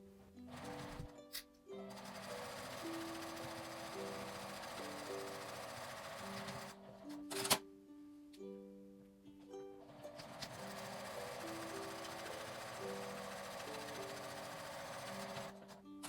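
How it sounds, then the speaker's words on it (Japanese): A domestic sewing machine stitches along the edge of a fabric pocket tissue pouch, its rapid mechanical whirring running in two long sustained bursts separated by a brief pause with clicks, close and fairly quiet. "端を縫います。"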